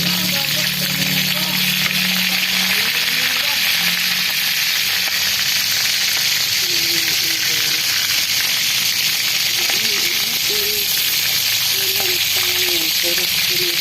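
Pieces of chicken are re-fried in hot oil that spatters, giving a loud, constant hissing sizzle that fills the clip, with faint background voices and sounds underneath.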